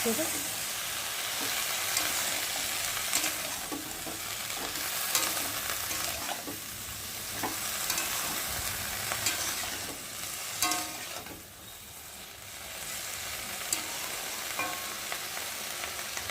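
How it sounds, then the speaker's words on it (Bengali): Chopped taro flowers are stirred and fried in oil in a pan, giving a steady sizzle broken by scraping spatula strokes, close and continuous with no talking. "আর এখন আমি এই যে কেটে রাখা কচুর ফুলগুলো দিয়ে ভালো করে একটু কষিয়ে নেব ভালো করে নেড়ে"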